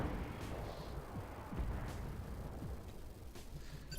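Mech weapons in the BattleTech game fire on a Panther mech: a few faint, scattered booms and bursts over a low rumble.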